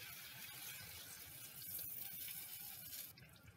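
Water poured into a pot of bitter gourd curry being cooked with salt, a steady close splashing and trickling that runs continuously for a few seconds before easing slightly at the end.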